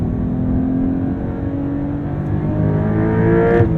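A 2023 Porsche 911 T with a manual gearbox revs on a downshift, its engine note rising in a loud, close, continuous growl heard from inside the car, with no one talking.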